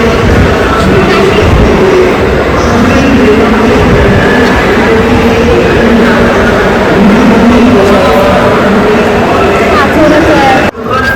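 A busy railway station with a steady loud rumble of crowd and trains, dense overlapping voices throughout, and an abrupt cut near the end.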